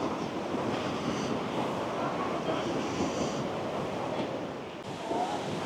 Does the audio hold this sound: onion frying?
no